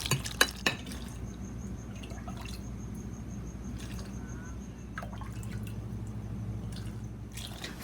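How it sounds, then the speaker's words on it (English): Water is poured from a pot into a jar of mustard greens for pickling, dripping and trickling, with occasional clinks of metal and glass over a low steady hum. "Transfer the water from pot to jar."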